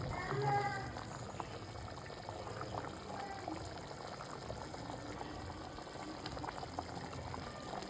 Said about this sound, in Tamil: நல்லா குழம்பு கொதிக்குது.